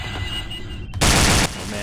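A pistol fires rapidly in the Doom 2 total conversion Aliens: Eradication, a loud, dense volley of shots packed into half a second, with game ambience before and after.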